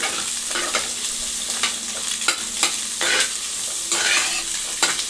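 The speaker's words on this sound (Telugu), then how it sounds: "ఒక 5 minutes మంచిగా ఫ్రై చేసుకోవాలి." Vegetables and egg stir-fry in a pan for homemade wheat-flour noodles: a constant close sizzle broken by repeated spatula scrapes and clatters at an uneven rhythm, with no talking.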